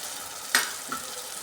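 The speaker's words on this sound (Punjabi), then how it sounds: "ਇੱਧਰ ਸਾਡਾ ਸਬਜ਼ੀ ਦਾ ਤੜਕਾ ਭੁੱਜਦਾ ਪਿਆ" A vegetable tempering for cauliflower sabji sizzles steadily in hot oil. A sharp stir or clink comes midway, and a softer one follows.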